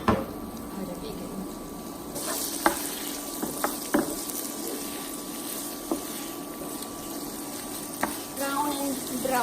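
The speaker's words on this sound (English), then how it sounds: "Browning the bacon." Bacon browning in a pan for egg fried rice, a steady moderate sizzle and hiss with occasional spatula taps and pops, a voice speaking briefly over it.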